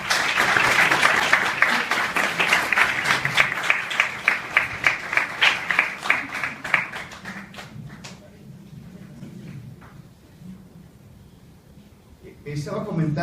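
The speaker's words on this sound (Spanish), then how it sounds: "para quien pido un fuerte aplauso" An audience applauds the rector of the University of Jalapa at a human rights panel: loud, dense clapping that thins into scattered claps and fades out, then a voice begins speaking near the end.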